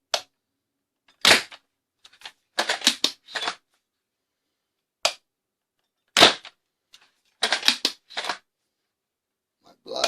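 ZWQ S100s Baize V2.5 foam dart blaster firing, sharp sudden snaps in scattered single shots and quick clusters, close and loud with silence between.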